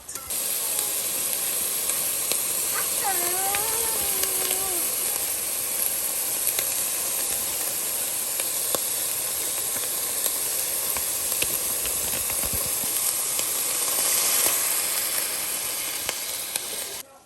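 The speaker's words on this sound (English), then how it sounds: "we're about to drain this oil that's in the meat" Hot oil being drained from cooked ground beef for taco pie, a loud continuous hiss and sizzle with steady broadband steam noise throughout, a brief squeaky tone early on, and no talking.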